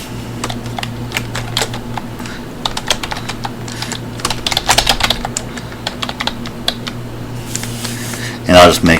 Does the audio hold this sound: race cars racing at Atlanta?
no